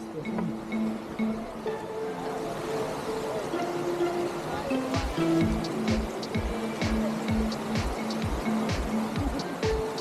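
A mountain creek flowing beside a hiking trail in Santa Elena, near Medellín, gives a steady broadband rush of water, with people talking over it and a run of clicking or knocking sounds in the second half.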